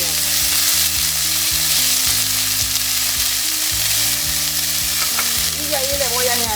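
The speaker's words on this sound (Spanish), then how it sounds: "Y lo vamos a mezclar bien." Chickpeas frying in a pan with onion, stirred steadily, give a loud, continuous close sizzle with regular scraping strokes and a faint hum underneath.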